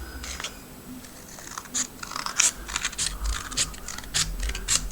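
Scissors snip through paper while a collage is cut out by hand, a series of crisp, irregular close-up cuts with short pauses between them and no talking.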